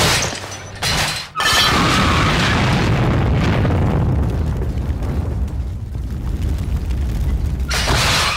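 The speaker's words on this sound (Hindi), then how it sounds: "देखो तो पटाखों की तरह गाड़ियों को कैसे उड़ा रही है।" Loud booming explosions burst out, followed by a long rumbling roar and debris, with another blast near the end.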